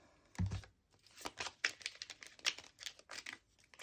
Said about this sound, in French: On va aller tirer une petite carte.